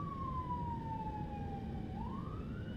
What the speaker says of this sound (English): Alright, that was an ambulance.